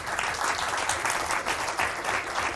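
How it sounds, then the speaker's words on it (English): An audience at the BlueHat v18 security conference applauds after a talk, with steady, sustained clapping that holds at an even level throughout. "Everyone give him a round of applause."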